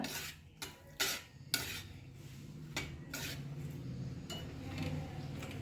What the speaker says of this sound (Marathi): आपण हे आता 2 मिनिट आणखी भाजून घेऊया।